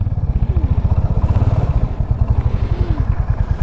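A Royal Enfield Hunter 350 motorcycle pulls away from a service centre, its single-cylinder engine thumping in a steady, close, even beat that rises slightly in pitch as it moves off.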